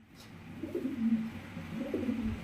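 Russian Angel pigeons coo softly up close, a low throaty rolling call repeated in a couple of bursts over quiet background.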